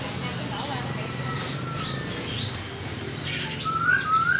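Small birds at a bird market in Binh Duong give scattered high chirps and tweets over a busy background hum, with people talking nearby.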